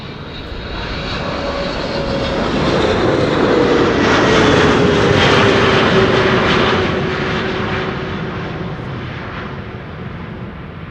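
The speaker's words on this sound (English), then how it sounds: "we have a heavy coming in, Air Canada flight 808, 777-200 long range, arriving from Toronto" An Air Canada Boeing 777-200 long range heavy jet lands at Amsterdam Schiphol on arrival from Toronto, its engine roar swelling steadily to a loud peak mid-pass and then fading slightly, with a falling whine running beneath the broadband rumble.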